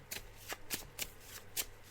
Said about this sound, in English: Just shuffling the cards now.